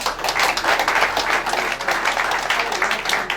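A room of people clapping right after an oath of office at an inauguration ceremony, with dense, continuous applause that holds steady and loud across the whole stretch, with no voice on top.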